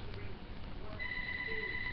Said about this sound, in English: that's just our phone